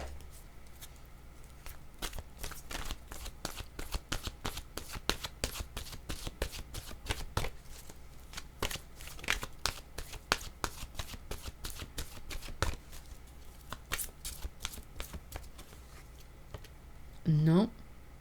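Oracle cards being shuffled by hand: a long run of dense, crisp riffling clicks and slides, close and steady, with a brief rising tonal sound near the end.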